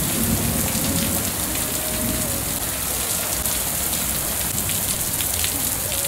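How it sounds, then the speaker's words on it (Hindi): Heavy rain pours down in a loud, unbroken hiss, dense and constant throughout, with no talking. "कैसी मूसलाधार बारिश हो रही है"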